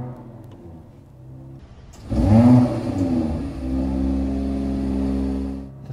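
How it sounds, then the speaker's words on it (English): A 2024 Mercedes-AMG GLE 53 Coupe starting in Sport Plus mode: quiet hum, then a sharp cranking catch and a loud flaring rev that settles into a steady, rumbling idle, heard close up. "let's pull it into Sport Plus because we will start the engine with the emotion start."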